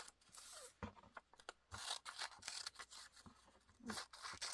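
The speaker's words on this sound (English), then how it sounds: "So I'm just going to cut these up. And I'm doing it the old-fashioned way." Paper slips being cut up by hand with scissors on a desk, giving a run of close, crisp snips and light rustling scrapes at an irregular pace, with no talking over them.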